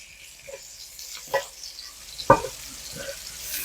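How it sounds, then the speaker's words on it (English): Mushrooms sauté in a little fat back in a pan, giving a quiet sizzle broken by a few soft stirring scrapes and clicks. "So we're just going to cook these mushrooms up a little bit. Saute them."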